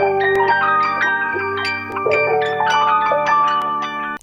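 Preset pattern from an OB-6 polyphonic analog synthesizer by Keon, multi-key bank: a rich, dense chordal pattern with plucked note attacks recurring every half second or so, loud and continuous with no talking.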